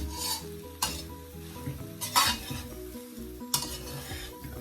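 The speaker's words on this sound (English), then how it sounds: "You want to keep stirring it for about 2 to 3 minutes" Shrimp fried rice with soy sauce and mixed vegetables is stirred in a hot pan, a steady sizzle broken by a few sharp scrapes of the utensil against the metal, with faint tonal music underneath.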